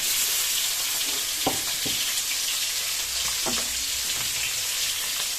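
Eggs fry in a pan with a constant close sizzle, broken by a few soft knocks of a utensil.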